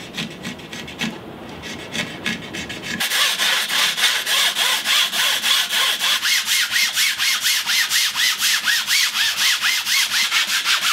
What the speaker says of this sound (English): I've given the paddles a good sanding